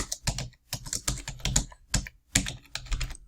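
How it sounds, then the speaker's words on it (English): Rapid keystrokes on a computer keyboard as a folder name is typed, coming in several quick bursts of close, crisp clicks with short pauses between them and no talking. "So a new folder. I want to call it Jemima."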